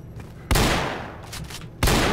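Gunfire in STALKER: Call of Pripyat: two sharp, loud, close shots about a second apart, each trailing off into a ringing decay, with no speech.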